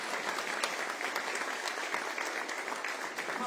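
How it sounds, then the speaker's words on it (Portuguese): A church congregation claps for Jesus at the close of a Sunday evening service, steady dense applause throughout at even loudness. "Aplauda Jesus."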